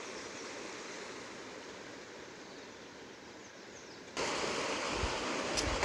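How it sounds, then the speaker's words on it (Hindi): Water from a hillside watermill channel, diverted while the mill is shut, rushes steadily downhill as a broad, continuous hiss that grows abruptly louder and closer partway through. "ये घराट का पानी है, अभी घराट बंद है तो पानी अभी जा रहा है नीचे को"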